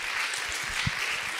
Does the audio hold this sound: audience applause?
yes